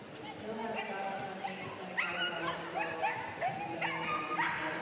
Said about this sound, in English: excited dog, as you can hear